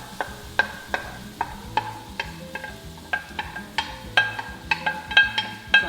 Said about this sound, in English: I am going to add my vegetables and get these fried up.